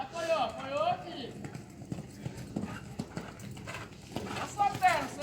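Horse hooves clip-clopping in a steady rhythm during riding training, close and clear under an instructor speaking to the rider.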